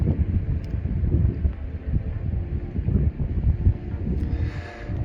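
Steady wind gusting beside a Scottish highland loch at Loch Coire Mhic Fhearchair on Beinn Eighe, Torridon, a continuous low buffeting roar across the microphone with no talk.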